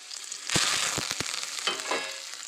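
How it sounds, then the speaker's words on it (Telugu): Tempering spices, curry leaves and garlic frying in hot oil, a bright crackling sizzle broken by several quick clicks and scrapes of stirring, close and fairly quiet. "కొంచెం తాలింపులు, కరివేపాకు, ఇవి కొంచెం మనం యాగనివ్వాలి ఫ్రెండ్స్."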